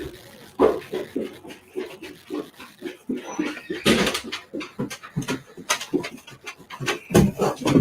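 A dog pants rapidly and rhythmically close by, with quick breathy huffs running the whole time and a few louder shuffling rubs.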